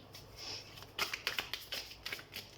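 Tarot cards being shuffled by hand: a quiet, close run of crisp riffling flutters and soft snaps, several quick bursts in an irregular rhythm.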